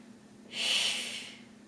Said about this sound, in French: Soufflez quand la jambe monte